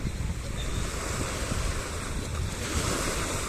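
Sea waves surging and crashing against shore stones on a November coastline, a continuous rough roar with wind buffeting the microphone, no speech.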